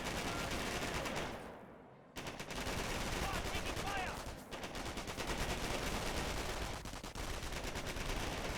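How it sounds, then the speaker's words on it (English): Automatic weapon fire crackles almost continuously in a Company of Heroes battle, dense rapid bursts of gunfire layered over busy game ambience, with a short lull before the shooting resumes. "Best thing you could do when receiving automatic weapon fire, I guess."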